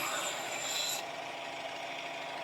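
Steady, close abrasive rasping of 240 grit sandpaper worked against a glass bottle spinning on a pottery wheel, bright hiss easing slightly after the first second and continuing evenly with no voices.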